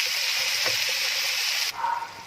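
Okra (bhindi) sizzles in hot oil in a pan, a steady, close hiss that changes abruptly near the end as the frying sound drops and shifts.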